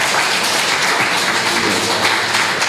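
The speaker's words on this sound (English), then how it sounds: "clap for yourselves." Audience at a sustainable agriculture farmer field school certificate ceremony applauding, a dense, steady wash of clapping held at even loudness for the whole short stretch.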